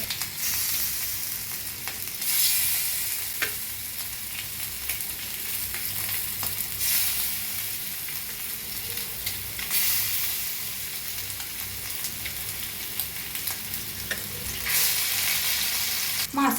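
Fish pieces frying in hot oil in a pan, a loud steady sizzle that swells and eases in waves, with occasional utensil scrapes.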